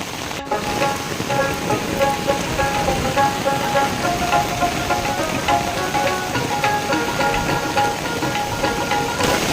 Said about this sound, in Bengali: গাইস আজকে যে বৃষ্টি হয়েছে বাপ বাপ ধামাকা বৃষ্টি